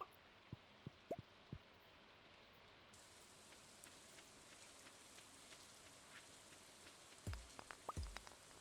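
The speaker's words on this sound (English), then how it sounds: "The fact that it decided to rain certainly helps." Soft, steady rain falls in the farming game Stardew Valley, a faint hiss with scattered close drip ticks and a few louder drops near the end.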